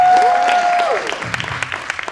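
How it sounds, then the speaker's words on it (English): Applause from the audience at a Soweto film festival media launch: a short burst of scattered claps follows a fading tone, moderately loud and without talk. "Round of applause to Candace."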